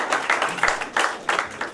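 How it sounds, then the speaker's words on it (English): Scattered applause from a small crowd at a post-race press conference for an AMA 450 Supercross main event in Detroit, with sharp, close claps rising and falling in uneven bursts. "Let's give a big round of applause for this main event in Detroit."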